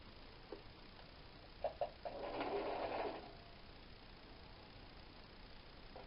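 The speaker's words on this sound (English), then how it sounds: "just using an ordinary straight stitch." A sewing machine straight-stitches Ponte Jacquard fabric in one short, quiet motor burst of about a second, preceded by a couple of soft clicks, in an otherwise quiet room.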